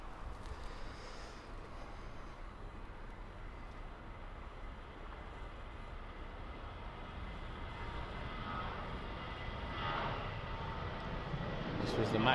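A Boeing 737 Max 8 airliner taxis at Birmingham Airport, its steady jet engine whine and rumble heard at a distance, fairly faint and continuous, swelling slightly toward the end.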